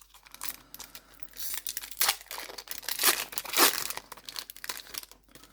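A Pokémon card booster pack wrapper is torn open and crinkled, sharp close crackles and rips that build in irregular bursts before fading.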